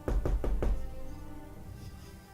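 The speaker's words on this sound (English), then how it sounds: "you hear another knock at the door" A door knocked on four times in quick succession, close and solid, followed by a fading room tail with no talk.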